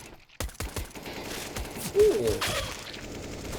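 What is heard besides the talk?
rifle gunshots in Counter-Strike video game match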